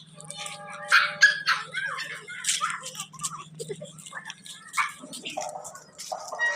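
A dog barks and yips repeatedly, fairly close, in short bursts over a constant low hum, with people talking alongside.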